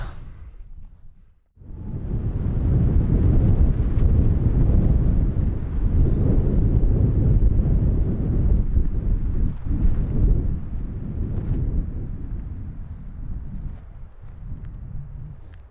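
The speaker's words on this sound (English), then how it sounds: "As you can see, it's been incredibly windy." Strong wind roars and buffets the microphone continuously outdoors in Tahoe National Forest after a brief quieter start, a loud broadband rush with gusts rising and falling.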